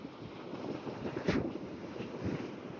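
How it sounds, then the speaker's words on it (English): Steady wind buffets the microphone on a windy, cloudy day outdoors near a wind farm, a low rushing noise with one brief louder gust. "It's also quite a windy day."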